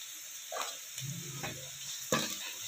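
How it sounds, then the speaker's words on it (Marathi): Turmeric, red chilli and black pepper powders are stirred in a pan while preparing a raw papaya curry, producing a soft oil sizzle with a few light scraping strokes, heard close and on its own. "याला थोडं हलवून घ्यायचं आहे।"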